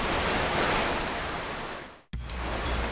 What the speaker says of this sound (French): Ici, les vagues de l'océan Pacifique peuvent atteindre jusqu'à 10 mètres de haut.